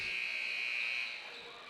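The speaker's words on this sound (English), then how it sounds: "The buzzer sounds." A loud, sustained electronic buzzer at a high school boys basketball game blares for about a second, then fades into the hum of a crowded gym.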